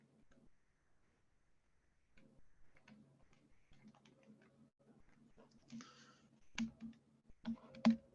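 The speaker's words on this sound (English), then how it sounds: "If I could type this into the calculator correctly." Calculator keys tapped in a quick irregular series of light clicks, close and fairly faint, with a few louder presses near the end and low room hum underneath.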